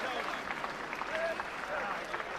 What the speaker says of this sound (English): a round of applause for the gallant Danny Williams